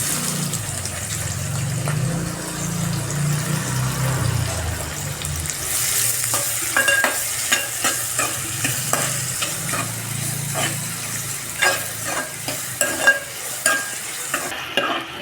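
Onions frying in hot oil in a pan, with a loud steady sizzle that rises after the onion goes in and is broken by scraping stirs and a few sharp clicks. Nobody speaks.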